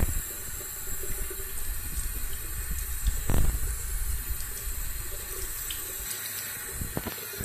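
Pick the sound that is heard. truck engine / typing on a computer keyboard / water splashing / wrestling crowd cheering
water splashing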